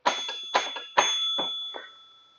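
The score bell inside a Coleco home pinball machine is struck five times in an irregular sequence, each ring metallic and close with a short decay, the last strikes fading more quickly.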